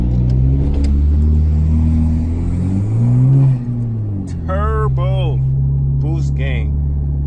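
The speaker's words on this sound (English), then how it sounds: "Turbo boost" A car's turbocharged engine revs and pulls hard while driving across the Bay Bridge on a clear day; the rising engine note sits up close, with voices talking over it.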